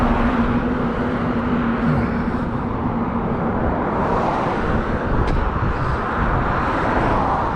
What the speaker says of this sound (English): the traffic noise is making it hard for you guys to hear me